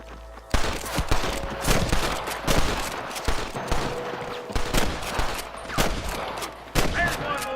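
Sniper gunfire in the Red Dead Redemption 2 video game, a string of sharp, loud rifle cracks at irregular intervals, some close and some more distant, over a background of game noise.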